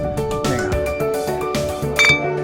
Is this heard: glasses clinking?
yes